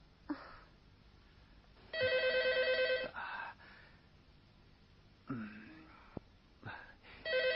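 A telephone bell rings in two loud bursts, with breathy sighs and rustling in between in a quiet room.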